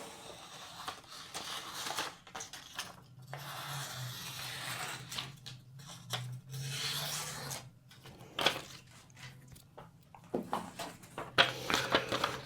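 X50CrMoV15 steel chef knife sharpened on a ruby ceramic stone, quiet repeated rasping strokes of blade across stone with short pauses between passes, close and faint, no voices.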